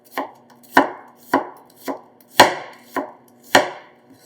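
A knife chops through halved onions on a cutting board, cutting them into wedges for bulgogi, with seven sharp, evenly spaced chops, close and crisp, each with a brief ringing tail and no talking.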